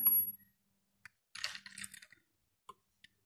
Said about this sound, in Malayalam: നമുക്ക് രണ്ട് ഐസ് ഇട്ട് കൊടുക്കാം